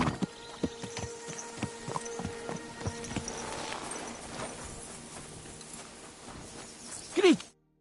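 Horse hooves clip-clop on the ground in the video game Kingdom Come: Deliverance 2, a steady run of distinct thuds that thins out, with a short loud burst of a rider's voice near the end.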